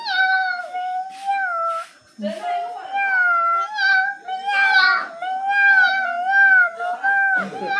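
A voice imitates a cat, drawing out several high, wavering meows one after another, close and fairly loud with brief pauses between.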